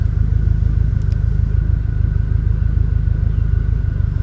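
A 2020 Subaru STI engine idles with a steady, loud, low rumble, running rough with a misfire in cylinders 2 and 3, heard close and alone without any talking.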